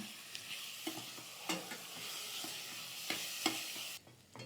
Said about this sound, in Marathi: तो कांदा आपल्याला यामध्ये घालून परतून घ्यायचा आहे कांदा चांगला सोनेरी रंगावर येईपर्यंत परतायचं आहे